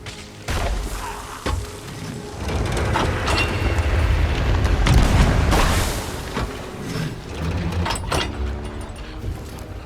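Repeated heavy booms of ship cannons firing in the game Sea of Thieves, several loud blasts at irregular intervals with rumbling low end between them.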